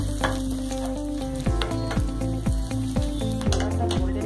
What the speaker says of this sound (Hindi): लहसुन को कूट कर लेंगे और स्लो कर दें, फ्लेम को स्लो करते हुए इसको थोड़ा सा सौते कर लें